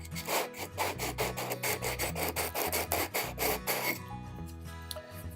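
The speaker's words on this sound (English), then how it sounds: "There we go, all nice sanded down." Cut edge of an empty glass wine bottle being sanded smooth: rapid, rhythmic rasping strokes up close, steady and fairly quiet, stopping near the end, with a faint musical background throughout.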